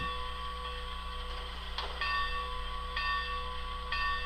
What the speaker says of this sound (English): You can kind of hear how that bell ring rate has picked up in speed.